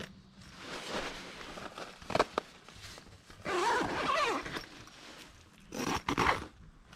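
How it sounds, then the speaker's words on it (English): A British Army mosquito cot tent zipper pulled in a few separate strokes, rasping and scratchy, with quieter rustling and handling noises between the longer zips. "So we can zip down rather than forcing that last bit."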